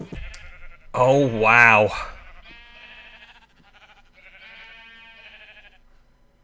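Sheep bleat in Agrarian Skies 2, a Minecraft modpack, with several overlapping wavering cries in a crowded pen, loud and close at first, then fainter bleats trailing on, with a brief voice over the start.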